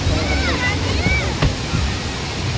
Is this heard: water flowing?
yes